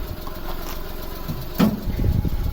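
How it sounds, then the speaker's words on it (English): A Suzuki Carry 4x4 tipper truck's engine idles with a steady, smooth, low mechanical hum, close and even throughout. A brief louder bump near the end may come from the tipper bed settling. "I'll just show you the tipper coming down now."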